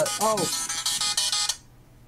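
A ringtone played over a microphone, a short bright chiptune-like melody of rapid repeated notes lasting about a second and a half before cutting off, with a voice heard briefly at its start.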